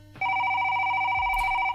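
Telephone in the game The Return To Freddy's, a single loud electronic ring tone starting abruptly and holding steady for over a second, close and clear with no voices.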